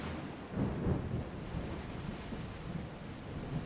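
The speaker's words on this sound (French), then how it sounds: "J'aime bien l'ambiance comme ça là avec les éclairs." Thunder rolls through a lightning storm at sea in Assassin's Creed Odyssey, a dense, continuous rumble with rain-like hiss and a heavier swell early on, with no voices.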